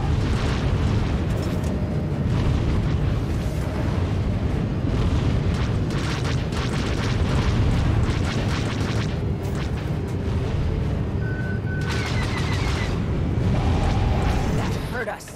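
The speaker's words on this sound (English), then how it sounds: "Launching missiles." Missile launches and explosions in a video game roar continuously as a dense, loud rumble of booms and bursts throughout, with a voice speaking over the battle noise.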